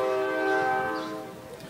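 A passing train's horn blares as a steady, loud chord in New Orleans, holding for about a second before fading slightly under rumbling rail noise.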